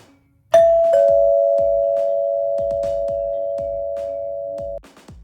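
A doorbell in a Minecraft redstone build sounds one clear chime that holds steady for about four seconds, with short clicks around it.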